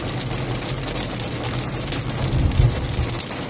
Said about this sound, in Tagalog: Umuulan mga katrops na may araw ha.